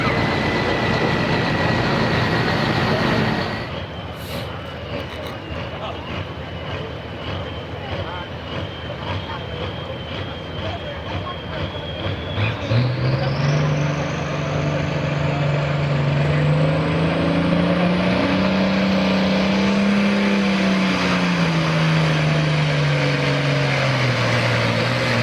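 A pulling tractor on the Snyder County Tractor Puller Circuit, its engine idling loudly, then revving hard with the pitch climbing and holding high under a steady roar as the run goes on, with people talking over it.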